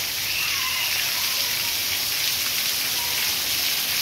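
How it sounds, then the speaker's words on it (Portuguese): Heavy night rain pours steadily on the streets of Amaniutuba, Ceará, as a dense, even hiss with no pauses, close and loud. "maravilhosa chuva"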